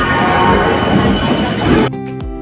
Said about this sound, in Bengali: এখন ফাইনালি ট্রেন ছেড়েছে হাওড়া থেকে